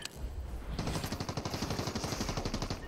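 Rapid automatic gunfire in the Fortnite video game bursts in after a brief quiet start, then runs as a steady, evenly spaced stream of loud, close shots.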